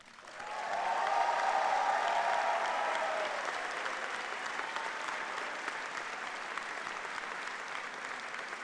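Applause swells from a commencement crowd at a 2026 aerospace and mechanical engineering graduation ceremony, rising quickly with some early cheering, then holding as a broad, steady, somewhat distant clapping for several seconds without speech.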